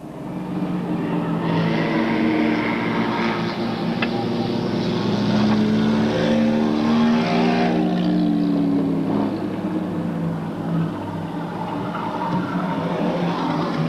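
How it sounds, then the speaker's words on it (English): Race car engines roar past at the checkered flag in a continuous rising and falling drone, several cars sweeping by close, with a crowd-like wash underneath. "The checkered flag for the number 61 car of Lonnie Lutz"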